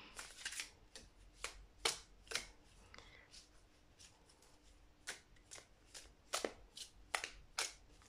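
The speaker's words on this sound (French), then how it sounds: "le jeu se bat très bien, il n'y a pas de problème, les cartes se séparent très très bien" A Golden Wheel tarot deck being shuffled by hand, with repeated crisp riffling and sliding card bursts at an irregular pace, close and quiet, with no talk.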